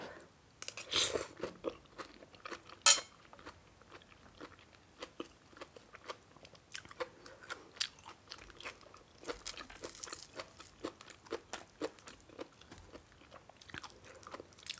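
Someone eating a Thai meal of fresh bamboo shoot curry with rice, fried fermented fish and chili dip, chewing close to the mic in soft, irregular crunches and bites, with a few louder crackles early on.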